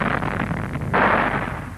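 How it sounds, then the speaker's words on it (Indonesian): A rock blast in a mine breaking loose ore-bearing rock: a broad, rumbling roar that swells suddenly partway through and stays loud and dense, with no voices. "Kemudian bagian-bagian yang mengandung biji diledakkan."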